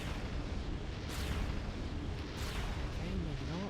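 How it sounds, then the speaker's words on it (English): A missile fired and exploding in Metroid Prime 3: Corruption, heard as a rumbling, booming blast with sharp bursts that stays loud and dense throughout, with a brief voice near the end. "Phase 1 missile"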